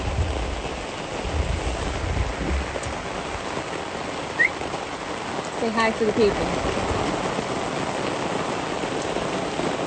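Steady rain patters down across the whole stretch, a dense wash of drops, while a voice speaks briefly over it.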